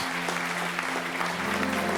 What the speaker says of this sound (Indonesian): Berikan tepuk tangan buat all sound team yang ada di belakang dan juga yang di atas.